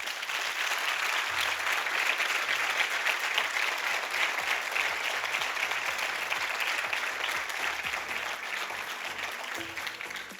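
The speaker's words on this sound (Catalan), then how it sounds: "Un fort aplaudiment." A crowd at a local sports gala applauds the board members and parents of new sports clubs, a sustained, even roar of clapping that holds steady for the whole stretch before easing slightly at the end.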